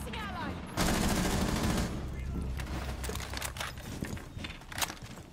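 Zofia's weapon firing in Rainbow Six Siege, a sustained loud burst of automatic gunfire followed by scattered shots, crackles and movement noise.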